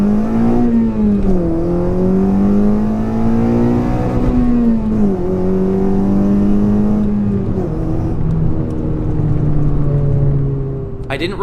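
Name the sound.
Honda Civic 9th-gen launching with new exhaust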